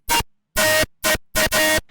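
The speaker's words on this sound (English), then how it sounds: "Then I'm sending that into a heavy distortion, so that gets fruity overdrive with 100x on the preamp." Heavily distorted dariacore synth layers, driven through Fruity Overdrive with the preamp at 100x, hit in five harsh, loud, noisy bursts separated by dead silence.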